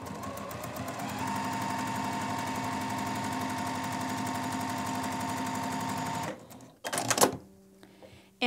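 Sewing machine stitching a quilt block seam for a maple leaf block, a steady fast mechanical whirring and needle chatter running continuously for several seconds, then stopping with a couple of handling clunks.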